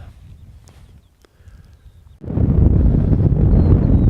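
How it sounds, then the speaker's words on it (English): Wind buffets a microphone on an exposed coastal footpath near Tintagel, starting quiet and then surging into a loud, continuous roaring gust for the second half. "Oh, windy."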